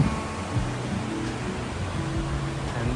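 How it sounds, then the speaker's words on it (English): Broad rushing roar of water at the top of Ponytail Falls, a steady continuous wash of noise close by with a low rumble underneath. "Alright, top of the waterfall"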